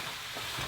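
Butternut squash and carrot cooking in fat in a single pot, a steady soft sizzle and frying hiss throughout the brief moment, close and even with no voices.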